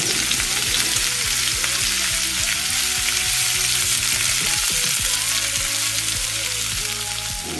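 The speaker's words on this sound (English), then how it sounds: "My onion will go in next, and I'll saute it for about 2 minutes or until it's fragrant." Onion sautés in hot cooking oil in a pot, giving a bright, dense sizzle that stays loud and close the whole time, with a low background hum beneath it and no voices.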